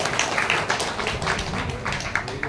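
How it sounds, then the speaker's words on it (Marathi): An audience applauding at an amateur stage performance event, a dense burst of many hands clapping together that carries on steadily for a couple of seconds, with a voice faintly mixed in. "टाळ्या वाजवा"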